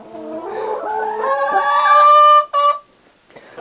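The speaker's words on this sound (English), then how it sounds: "That was the chickens." A chicken on a snowy Michigan property lets out a loud, drawn-out rising call close to the microphone, ending in a brief squawk before quiet returns.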